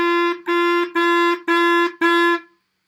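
Clarinet sounding one steady sustained pitch in five tongued notes, each cleanly articulated with short gaps between, loud and close in a quiet room with no talk.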